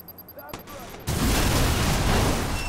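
Gunfire and a grenade blast ring out in the Watch Dogs video game, a few sharp reports at first, then a sudden loud, dense roar of sustained fire and explosion that lasts to the end.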